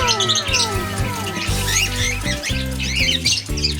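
Pet parrots, a White Pearl cock and a Lutino hen kept in a backyard aviary, give repeated squawks and chirps over a busy layered chorus of bird calls, close and fairly loud with no talking.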